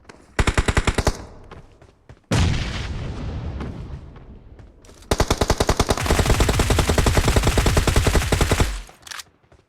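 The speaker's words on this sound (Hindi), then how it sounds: "सामने से गोलियां चलने की आवाज़ आती है।" Rapid automatic gunfire from a video game rattles out in three long, loud bursts separated by brief gaps, the final burst the longest.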